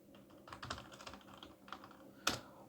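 Quiet keystrokes on a budget gaming keyboard from an unboxing, a short irregular burst of clicks with one sharper, louder tap near the end, close and alone.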